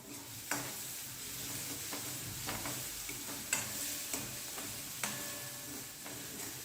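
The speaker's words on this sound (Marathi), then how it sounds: "कांदा टाकून आता मी हा परतून घेणार आहे" Chopped onion softens in a pan for a sandwich filling, giving a quiet, even sizzle with a few sharp spatula clicks against the pan and no talking.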